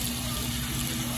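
Tap water running steadily into a measuring cup while mixing batter for deep-fried crispy chicken, a continuous close hiss and splash with no talk.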